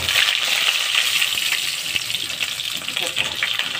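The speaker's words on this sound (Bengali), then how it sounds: "এবার পটলগুলি ভেজে নেবে তেলে।" Pointed gourd (potol) frying in hot oil, giving a loud, steady, hissing sizzle that runs unbroken throughout.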